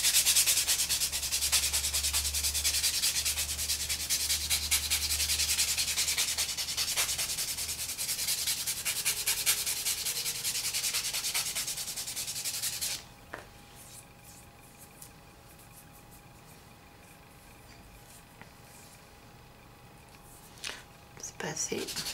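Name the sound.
sanding a nail surface smooth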